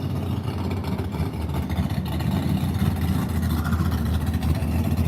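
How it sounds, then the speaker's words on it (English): A steady, loud engine rumble fills a small drag racing strip as a car gets ready to run, droning continuously with no clear revs or launch. "Looks and sounds like we're getting ready to run a car."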